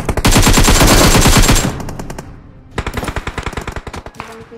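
Loud bursts of gunfire from a PUBG match: a rapid close-range volley for about a second and a half, then after a short lull a second string of sharp, evenly spaced shots.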